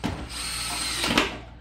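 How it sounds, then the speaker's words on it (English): A power drill drives exterior screws into a Snoo bassinet, whirring steadily at close range for over a second before a brief ratcheting tightening burst and spin-down. "I'm going to start tightening all of the exterior screws"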